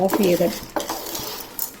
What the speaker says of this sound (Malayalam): കൈ മാറാതെ ഇളക്കി കൊടുക്കണം